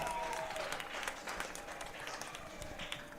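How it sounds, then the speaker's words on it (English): Spectators at a women's college soccer match clap from a distance, a soft scattered applause with some murmuring crowd and faint talk. "the CUC faithful right there applauding the efforts of their team"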